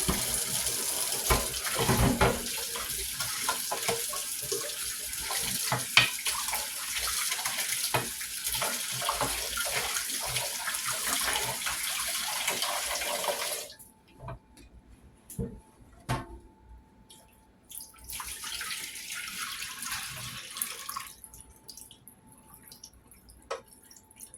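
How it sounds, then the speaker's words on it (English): Warm tap water runs steadily from a faucet over pork ribs being washed in a sink, a continuous hiss and splash for about half the time, then stopping and leaving occasional drips, clinks and handling sounds. "I love to use that warm water when I'm doing my meats because it helps draw all that blood out of there."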